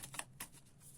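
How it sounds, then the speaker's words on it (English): Tarot cards being shuffled by hand make faint, crisp riffling snaps in a few quick bursts, then a soft fading rustle. "We're gonna keep shuffling."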